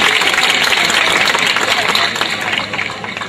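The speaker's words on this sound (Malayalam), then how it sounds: "ഒന്ന് കൈയടിക്കും." An audience at a Malayalam comedy stage show clapping together in a dense, loud, sustained wash of applause that eases slightly toward the end.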